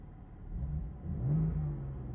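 A 2023 BMW M3 50 Jahre Edition engine idles low and muffled with exhaust valves closed, a soft steady rumble that swells slightly partway through.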